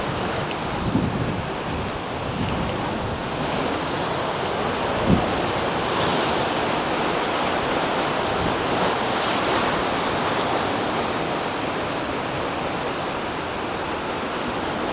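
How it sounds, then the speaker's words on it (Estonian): Ocean waves pound the shore along the coast of Puerto de la Cruz, a continuous loud roar of surf mixed with wind noise, steady throughout. "Õudne, kus vesi peksab siin kogu aeg."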